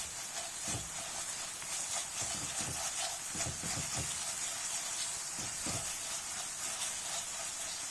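Ginger garlic paste sizzles in a hot pan with onions for a mutton masala, a steady broadband hiss lasting throughout with occasional soft pops and stirring clatter.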